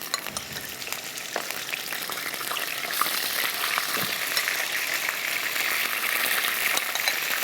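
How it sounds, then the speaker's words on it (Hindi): Meat pieces with ginger garlic paste being fried for Lahori hareesa: a dense, close crackling sizzle that builds slightly louder over several seconds, with occasional stirring knocks and no speech. "गोश्त की बोटियां शामिल कर देते हैं और साथ ही लहसुन और अदरक का पेस्ट। सिर्फ मकसद ये है थोड़ा सा भून लें"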